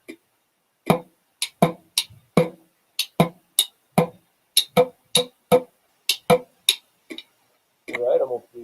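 Drums tapped out in a soca beat: a quick train of about twenty sharp, close, evenly spaced hits over several seconds, followed by a brief burst of voice-like sound at the end.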